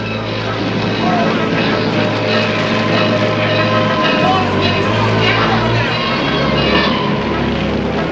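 WWII aircraft engines drone loudly and steadily during the Nazi bombing of London, a continuous propeller roar that fills the whole stretch while a voice speaks over it.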